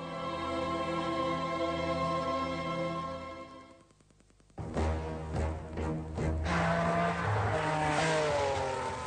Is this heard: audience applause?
no